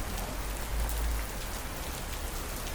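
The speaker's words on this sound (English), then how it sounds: "Even in Greece, pouring with rain, but it's still warm." Heavy rain pours down steadily in Finikounda, Greece, a dense, even hiss of drops striking surfaces that continues unbroken, with a low rumble swelling briefly near the start.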